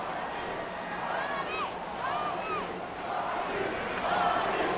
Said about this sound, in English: The crowd beginning to chant, Bobby, Bobby